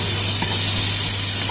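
Ginger garlic paste hits hot oil in a pan while moong dal is cooked. It gives a loud, steady hiss and sizzle throughout.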